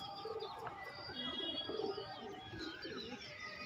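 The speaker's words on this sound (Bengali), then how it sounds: "দারুণ দারুণ পায়রা" Pigeons cooing in a loft among prized Kalanka, green and Bhura breeds, several low, rounded coos repeating over a steady background of chirps and bird chatter, fairly close.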